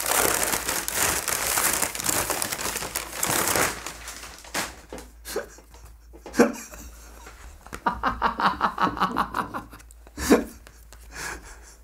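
Paper wrapping around a collectible lithograph crinkles loudly as it is unwrapped, a dense rustle at first, then bursts of crisp crackles and tearing-like rattles between quieter pauses and soft breaths, close by.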